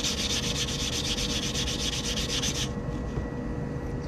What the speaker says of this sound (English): I'm just sanding down the cut edge of these rings